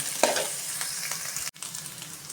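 Pirandai, the adamant creeper, sautéing in plenty of oil, a continuous near hiss of frying with faint stirring scrapes and one brief cut in the sound midway.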